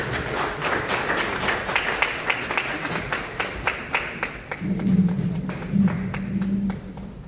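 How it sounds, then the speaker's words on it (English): A conference audience at the British Council in Accra, Ghana, claps in a round of applause, with scattered hand claps and a low hum underneath. "A round of applause."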